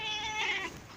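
Pet cat named Mayo giving one drawn-out, harmonic meow lasting about a second that fades toward the end, faint and heard alone.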